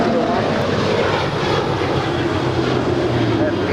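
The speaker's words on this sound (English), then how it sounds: "This is United 797 departing to Los Cabos. It's a 737-800." United Boeing 737-800 jet departing LAX for Los Cabos, a loud close engine roar with a low droning hum rising near the end, steady and dense throughout.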